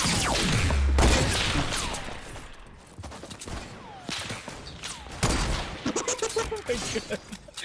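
Sniper rifle gunshots in a Fortnite-style battle royale game, sharp reports at about one and five seconds followed by echoing tails and further scattered game sounds, fairly loud with no voices.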